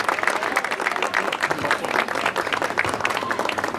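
A crowd applauding steadily at a samba school carnival event, dense clapping close and loud throughout.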